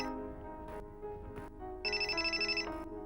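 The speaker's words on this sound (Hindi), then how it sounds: "फोन?" A telephone rings with a tonal ringtone in short bursts separated by brief gaps, followed by a longer warbling trill, fairly quiet and with no one talking.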